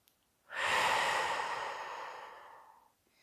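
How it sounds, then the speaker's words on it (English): A single long, deep exhale during a HIIT yoga practice, rising quickly to a full breathy rush and slowly fading out over a few seconds, close and alone. "One more deep breath."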